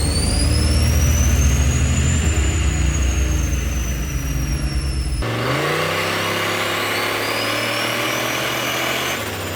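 A turbocharged police car, fitted with a lighter wastegate spring, brake boosting, its engine held at a loud sustained rev with a whistling turbo tone, then pitch shifting as the revs climb again.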